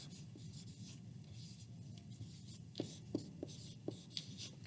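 A pen or pencil writes on paper, giving soft continuous scratching with a few light taps, faint and close against a quiet room background.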